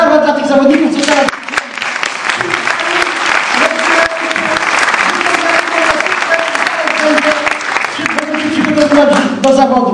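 A theatre audience at a speedway show in Gorzów Wielkopolski claps loudly and steadily for Stal Gorzów riders, dense applause that swells and dips, with someone talking over it through a loudspeaker.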